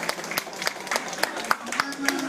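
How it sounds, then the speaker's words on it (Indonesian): Audience applause for Pak Indra Utoyo at a Jakarta startup meetup held at Telkom Indonesia, a sustained patter of many hands clapping at moderate level, steady and dense throughout. "Teman-teman mohon izinnya tepuk tangan dulu dong untuk Pak Indra Utoyo."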